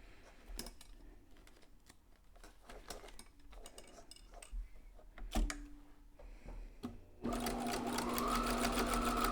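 Home sewing machine stitching a homemade protective face mask: faint clicks and handling noises at first, then the motor whirs into a steady, loud, continuous run for the final two seconds.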